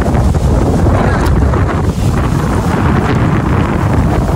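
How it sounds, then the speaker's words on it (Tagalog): Strong wind roars and buffets the microphone continuously, a dense rushing noise with no voices. "Ang hangin."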